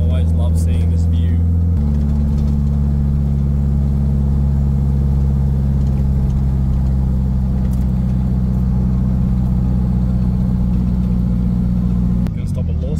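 A Nissan 180 driving away from Bihoku circuit in Japan, its engine a steady, loud low drone that shifts pitch once near the start and again at the end, with a voice speaking over it.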